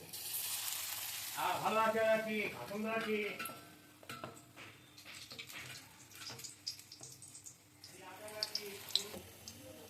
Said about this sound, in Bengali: এবার গ্যাসটা কমিয়ে কমিয়ে ভেজে নিতে হবে।